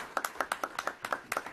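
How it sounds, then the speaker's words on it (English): An audience claps for Bridget at a regulatory cooperation council event, a short burst of applause from a small crowd with sharp, irregular claps, no voices. "So we should applaud Bridget for her grand award"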